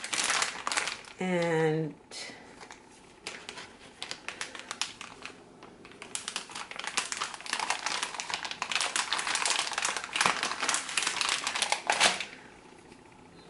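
A crinkly plastic package of spring rolls being cut open, with sharp, rapid crackling and rustling bursts that build and continue for several seconds after a brief spoken word.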